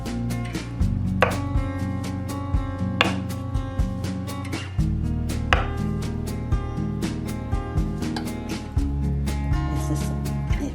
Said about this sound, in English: Going to cut the eggs